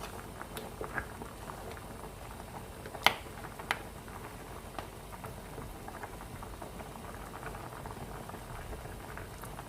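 Traditional pumpkin porridge of pumpkin, salt and rice flour simmering in a pot, a quiet steady bubbling and popping with a couple of sharper clicks, close and faint with no voices.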